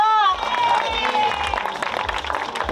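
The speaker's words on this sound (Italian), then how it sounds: "Forte l'applauso!" Audience at a Miss Latina Beach pageant breaks into loud applause and cheering, a dense crowd roar that stays steady while a voice carries over it near the start.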